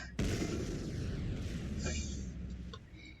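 A sudden loud blast as a car explodes in a video game, followed by a long rumbling roar and crackling debris that slowly fades.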